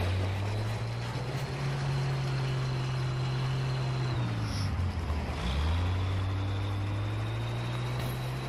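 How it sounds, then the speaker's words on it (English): A steady, loud engine drone from a tank in Battlefield V, holding constant with a brief dip in pitch near the middle before it settles back to the same rumble. "Hear this tank, he's just like hiding."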